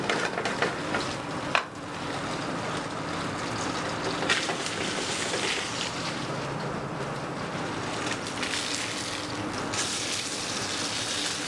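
Tuna sears in a hot pan with a steady, loud sizzle and crackle that runs throughout, broken by a few sharp pops and clatters near the start.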